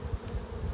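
Honey bees buzz around a hive during a paper combine of two colonies, a steady low drone close by with no voices.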